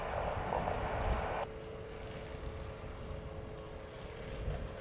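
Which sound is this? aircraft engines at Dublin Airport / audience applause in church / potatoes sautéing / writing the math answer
aircraft engines at Dublin Airport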